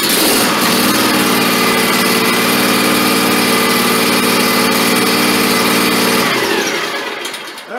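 A Scag 36-inch walk-behind mower's engine runs at low throttle, a loud steady close drone with a buzzing hum that holds evenly before easing down at the end.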